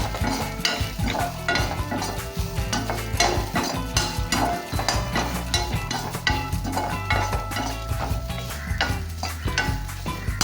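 Grated coconut being sautéed in a pan for a hotel-style vegetable kurma, with a steady run of scraping stir strokes and soft sizzling that carries on without a break. No one speaks.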